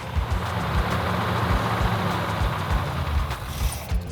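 A Mopar V8 in a Plymouth Cuda idles with a low, steady, lumpy rumble, loud and close, with no voices over it.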